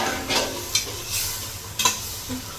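Spice masala with ground cumin fries in a pan, a close, steady sizzle with a few quick spoon scrapes and stirs.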